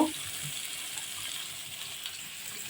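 Dal poured into hot, slightly scorched tempering (bagar) in a pan raises a steady, broad sizzle that holds evenly throughout, with faint clinks beneath.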